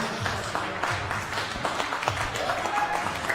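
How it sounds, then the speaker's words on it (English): Moderate applause from spectators at a Florida open strength competition welcomes a first-time lifter, a steady patter of clapping with some low murmuring from the crowd underneath. "Please give him a round of applause."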